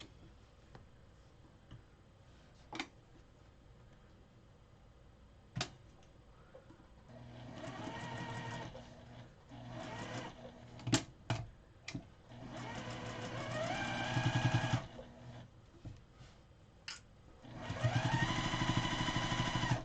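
A sewing machine stitches quilt-as-you-go quilt fabric in several bursts, its motor whirring and rising in pitch as it speeds up, with pauses and small clicks between runs and a long, fast final stretch.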